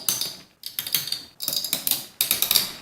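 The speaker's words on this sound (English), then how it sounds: "the sounds made by the spring-loaded screws" Rapid mechanical clicking in three quick bursts, like a ratcheting screw being turned, close and fairly quiet: spring-loaded CPU cooler screws being tightened during a PC build.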